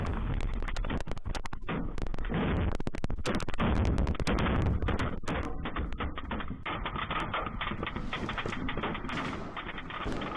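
Rapid bursts of gunfire in news footage of a strike in Khan Younis, sharp cracks and volleys crowding the first half, then thinning to scattered shots under a band-limited broadcast hiss.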